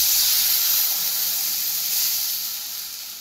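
Water poured into a hot pan for raw mango chutney gives a loud rushing hiss of steam that slowly fades over a few seconds, with no voices.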